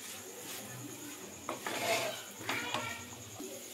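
Chicken being stirred and fried with a ground spice paste in a pan, a quiet background sizzle broken by a few scraping spatula strokes against the metal.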